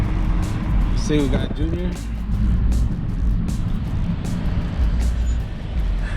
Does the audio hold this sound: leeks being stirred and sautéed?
no